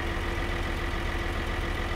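A tractor engine idles in Farming Simulator 2013 with a steady, low, even rumble and a constant hum. It runs alone and unchanging, with no voice over it.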